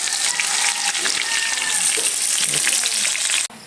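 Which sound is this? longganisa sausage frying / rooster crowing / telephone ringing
longganisa sausage frying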